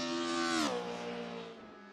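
A race car engine at Hockenheim lifts off the throttle under braking, its loud, steady buzzing note sliding sharply down in pitch partway through and settling into a lower, rougher drone.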